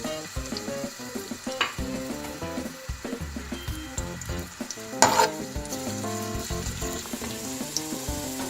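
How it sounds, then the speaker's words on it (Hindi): Onions frying in oil with cinnamon, cloves, black cardamom, star anise and black peppercorns give a steady sizzle under a busy layer of stirring and utensil clatter, with a sharp metallic clank midway. "ऑयल डाल दिया है। अब इसमें मैं प्याज डालूंगी।"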